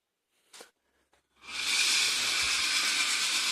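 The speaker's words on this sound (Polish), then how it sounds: "jest przycisk do uruchamienia parę. I zobaczymy," A Philips steam generator releases a strong, steady hiss of steam after a couple of faint clicks, the loud rushing blast continuing without a break close to the mic.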